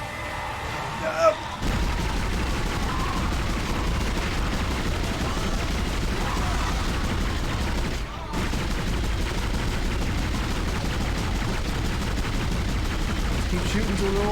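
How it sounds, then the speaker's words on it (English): Sustained gunfire in the Dead Space video game, a dense, loud, continuous barrage of shots and impacts over a rumbling game soundtrack, with a brief dropout partway through. "Keep shooting until they're all dead and stop moving."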